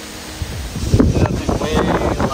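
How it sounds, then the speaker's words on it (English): Steady wind on an outdoor golf course buffets the microphone with a low, rumbling rush, and faint voices sit underneath. "we got wind right to left"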